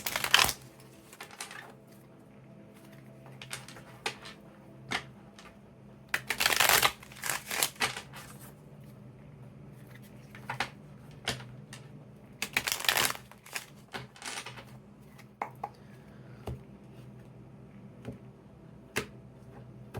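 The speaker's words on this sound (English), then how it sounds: "I'm going to shuffle it a couple of times." Tarot cards get shuffled in several bursts of riffling and flicking, with quieter taps and handling sounds between them, close by with no speech.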